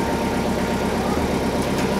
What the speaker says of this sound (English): It goes on his bucket forks for his tractor.